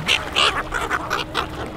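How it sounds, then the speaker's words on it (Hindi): Siberian migratory water birds at the river in Allahabad give a rapid series of short, nasal quacking calls, fairly close and overlapping in a quick rhythm. "ये साइबेरियन से जल कबूतर बोलते हैं"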